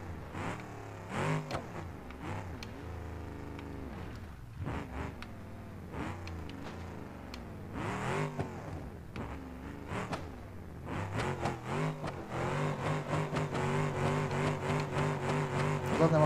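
An off-road 4x4 engine in BeamNG Drive labours and revs up and down in shifting pitch, straining hard and growing louder toward the end as it climbs a steep mountain slope.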